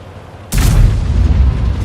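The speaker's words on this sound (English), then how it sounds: "I think he fired by mistake there." A single loud, deep boom as an M44 self-propelled gun fires a shell in a tank video game, a sudden blast followed by a long low rumbling decay, heard alone.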